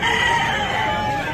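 A rooster at a Filipino backyard chicken sale crows once in a sustained, loud call lasting the whole moment, clear and close.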